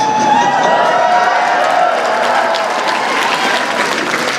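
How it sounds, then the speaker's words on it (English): Rowdy crowd at a Marco Rubio political rally in Minneapolis applauding and cheering loudly and steadily, with whoops and faint shouts mixed into dense, sustained clapping. "This is a rowdy crowd, man."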